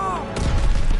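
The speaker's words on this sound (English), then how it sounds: "Air bomb!" An air bomb detonates in a Call of Duty game, a sudden loud boom that swells into rumbling debris after a brief moment of game voice and tone.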